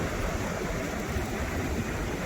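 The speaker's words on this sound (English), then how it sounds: "Look at the waves." Ocean waves break on Sennen beach in Cornwall, a steady broadband wash of surf that holds at the same level without pause or voices.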